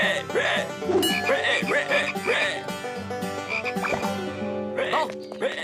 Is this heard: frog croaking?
yes